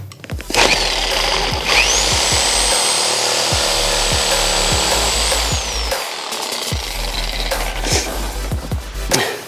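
A power saw cuts through a badly stripped screw holding a seat on a fiberglass boat, giving a loud, continuous buzzing drone with a steady whine and rhythmic low thuds from the cutting strokes, close up.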